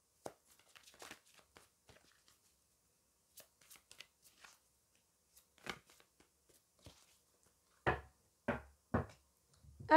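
An oracle deck of cards being shuffled for a reading, in soft scattered riffles and taps that build into louder, sharper shuffling bursts toward the end, close up with no talk.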